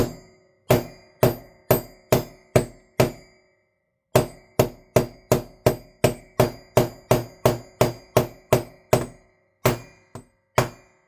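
Sharp repeated knocks against a Deep Cool CPU heatsink with a stuck, noisy case fan, struck in rapid series: a burst of about seven hits, a short pause, then a longer run of steady blows and a few final taps.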